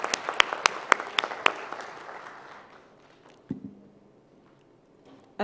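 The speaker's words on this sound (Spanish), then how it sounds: "le damos un aplauso" A few sharp claps at first blend into a short wash of applause that fades quickly to quiet, from an audience at a forum on gender quotas in Mexico.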